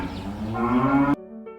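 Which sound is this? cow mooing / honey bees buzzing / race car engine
cow mooing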